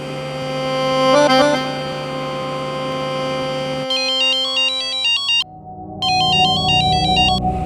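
An electronic ringtone plays steadily, a repeating beeping melody that shifts pattern partway through, loud and continuous with no talking.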